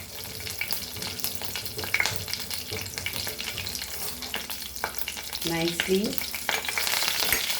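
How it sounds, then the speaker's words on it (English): Cumin and mustard seeds fry steadily in a hot pan, a dense crackling sizzle with scattered pops and stirring scrapes, growing busier toward the end; one brief spoken word. "teaspoons of cumin seeds and 1 teaspoon of mustard seeds. So we'll fry this."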